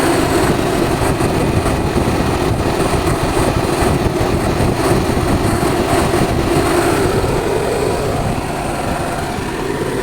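Two extra radiator fans run together on a Wuling Almaz CVT Turbo, a steady loud whooshing drone with no breaks for the full length, with no talking over it.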